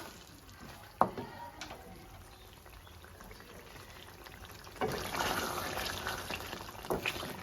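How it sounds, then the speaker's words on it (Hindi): Chicken karahi masala with yogurt simmering on a slow flame, a faint soft bubbling with a sharp clink near the start and a louder burst of sizzling toward the end. "टू मिनट हम इसी तरह स्लो फ्लेम पे इसको पकाएंगे।"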